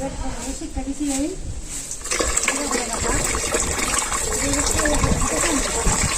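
Water poured over a person's head during a bath, a steady gushing splash running throughout under nearby talking and background voices.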